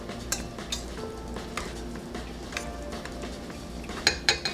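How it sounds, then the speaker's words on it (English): A utensil stirs melting butter around a pan on the stove, scraping and clinking steadily with a faint sizzle underneath, plus a few sharper metallic taps toward the end. "We're just gonna stir it up a little bit to get the butter in there"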